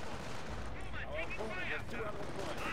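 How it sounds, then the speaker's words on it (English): Firestorm artillery strike in Company of Heroes pounding a battlefield, a steady low roar of blasts and explosions running throughout, heard under a commentator's excited talk. "Firestorm has been unleashed."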